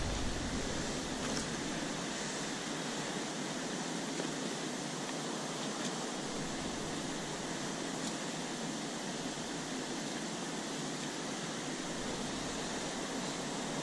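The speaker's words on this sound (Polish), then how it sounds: "bardzo tu szumi od tego wodospadu" Steady broadband rush of a waterfall at a 19th-century mill dam, constant and loud throughout with no breaks, the roar filling the whole scene without any talking.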